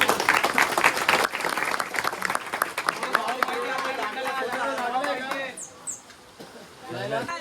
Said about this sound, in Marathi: त्या दोघांसाठी इकडे टाळ्या